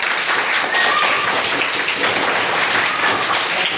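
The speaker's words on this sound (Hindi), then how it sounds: "भाई ताली बजाइए तो जोरदार।" Steady, dense applause from a crowd of students and teachers at a school quiz competition in Kesariya, loud and continuous throughout with no pauses.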